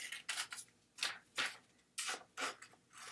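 Scissors snip through paper for an interactive notebook in a quiet room. Several short, crisp cutting strokes come in uneven bursts, close and fairly soft.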